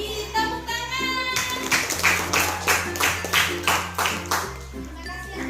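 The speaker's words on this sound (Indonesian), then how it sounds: "Tepuk tangan." A classroom of children claps hands together in a quick, rhythmic patter, the claps fairly close and moderately loud, with a steady musical tone running underneath.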